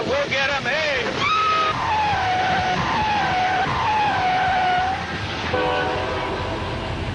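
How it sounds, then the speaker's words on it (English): Railroad train at a crossing sounds long wavering horn blasts over rumbling wheels, fairly close, with people talking over it. "Ah, there's a railroad train crossing."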